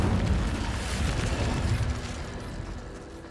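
A deep booming fire blast from the Incendio spell in Hogwarts Legacy, a single heavy rumbling burst that slowly decays with no voices over it.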